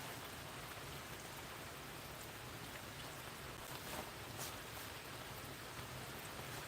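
Rain falls in a steady, even patter and hiss, faint and continuous throughout with no voices.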